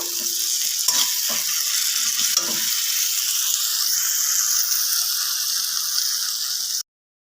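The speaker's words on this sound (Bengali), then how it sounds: "পেঁয়াজের সঙ্গে আদা রসুনটা একটু ভালো করে ভেজে নেব।" Onion with ginger-garlic paste fries in a pan, a steady close sizzle running throughout with a few scraping stirs near the start, then cutting off abruptly.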